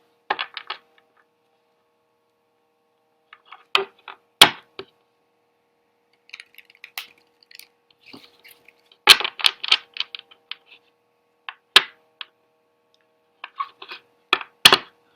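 Tarot cards being taken out and handled, with sparse soft taps, flicks and rustles scattered across a quiet room in irregular clusters.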